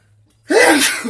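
A single sharp human sneeze bursts out after a near-silent moment during a tabletop card game, close and loud.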